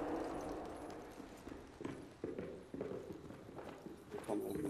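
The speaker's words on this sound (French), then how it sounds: "y'a des bruits de pas dans la maison là" Footsteps in a house within a video game, a steady run of soft thuds heard under continuous talking from players.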